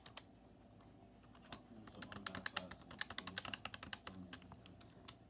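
Keys clack on a small, quiet wireless keyboard whose space and enter keys are noisier, pressed close by in an irregular run of sharp clicks that grows busier midway, with no talking.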